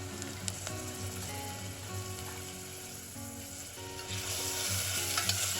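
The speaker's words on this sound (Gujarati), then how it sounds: "ત્યાર પછી હવે આપણે આદુ મરચાં લસણની પેસ્ટ એડ કરીશું." Onion frying in a pan with ginger, garlic and chili paste, a steady close sizzle with stirring scrapes and a few sharp clicks, continuous and rising slightly toward the end.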